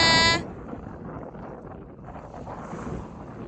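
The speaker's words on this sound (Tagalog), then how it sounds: "Ngayon mahangin na eh." Steady wind rushing across the microphone on a beach at night, with low rumbling buffeting, following a brief loud tonal burst at the very start.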